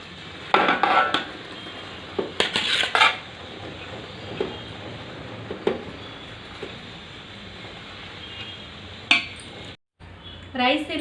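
Spoon clinking against a pot as cooked rice is spread evenly over chicken for a Mughalai chicken pulao, with repeated sharp metallic clatters close by, a few loud bursts between quieter scraping.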